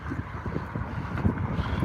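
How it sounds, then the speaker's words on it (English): Steady buffeting wind rumbles against the microphone on a windy night in Guelph, a continuous low blustery roar with no voices. "it's a windy night here in Guelph"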